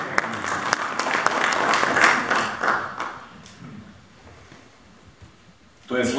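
Audience applause at a humor and satire festival in Pljevlja, a full hall clapping loudly at first, then thinning and fading, with a brief swell of sound at the end.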